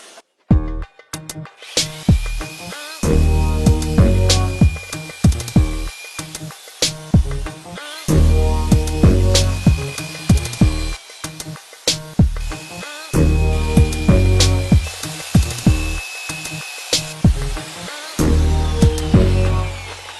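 A power drill with a 12 mm bit bores holes about 3-4 cm deep into a log to grow mushrooms. It runs as loud, close bursts that start and stop again and again, with short pauses between holes.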